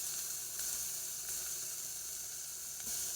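Food seasoned with salt and black pepper sizzles in a pan, a steady, even hiss up close. A few faint clicks sit under it, and no one speaks.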